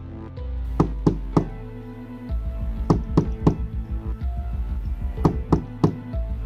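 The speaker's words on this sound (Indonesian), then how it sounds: "Setelah 3 kali ketukan pintu" Knocking on a wooden door, sharp near raps in short clusters that repeat several times over a low droning background.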